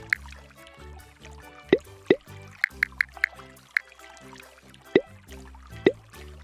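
Water effects in the Team Hamster game Splash Dash: a sequence of crisp, bright drips and plops, irregularly spaced over a soft bubbly musical backdrop, close and clear.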